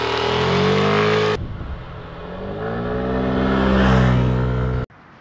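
A Yamaha XMAX 125 sporty scooter's engine runs loud and close, revving and holding a steady tone before cutting off abruptly near the end.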